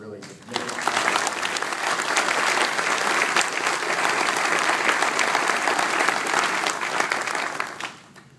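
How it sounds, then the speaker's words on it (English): A conference-room audience bursts into sustained applause, a dense, even wash of clapping lasting about seven seconds before fading out. "if everybody can give them a round of applause"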